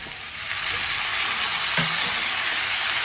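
Drumstick pods and eggplant frying in a hot pan for a vegetarian curry: a steady, loud, close sizzle that stays even throughout, with one brief utensil knock partway through and no voices.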